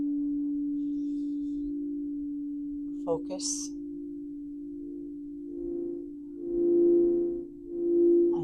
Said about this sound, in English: listen to the calming tones of the bowls